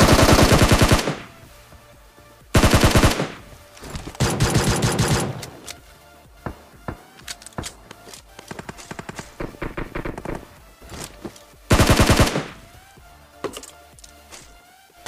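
Rapid automatic gunfire bursts in a Battlegrounds Mobile India match, several long dense volleys separated by scattered single shots and quieter gaps, loud and close.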